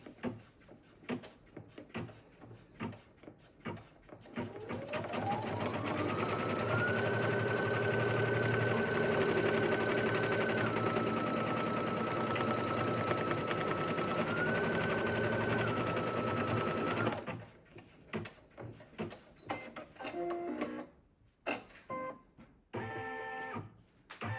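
Embroidery machine stitching a plushie heart, a loud, steady, rapid mechanical whir running for about twelve seconds with a rising start and a brief pitch shift, then stopping, with quiet clicks and handling noises before and after.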